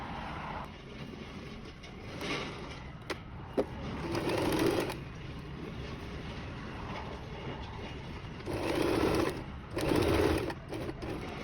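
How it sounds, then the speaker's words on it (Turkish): A sewing machine stitches a mock shirt collar in short bursts of rapid, close-up whirring, with quieter handling noise between the runs. "Sonra buradan dikmeye başlıyorum."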